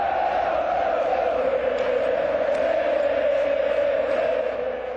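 A large football stadium crowd chanting Pelé's name, a broad sustained roar of many voices, distant and echoing, steady throughout with no clear individual words.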